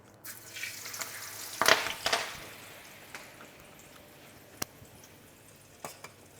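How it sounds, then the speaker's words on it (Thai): Kaffir lime leaves frying in hot oil give short, sharp crackles and a burst of spattering sizzle early on, then settle into a quiet simmer broken by occasional isolated pops, with no voices. "จากนั้นก็จะทอดใบมะกรูดค่ะ"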